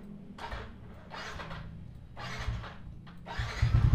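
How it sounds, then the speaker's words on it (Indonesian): A Yamaha Nmax scooter engine being started with difficulty: several cranking bursts that catch briefly and die, then a louder rough firing at the end, close by with no talk. "Kadang agak susah starter."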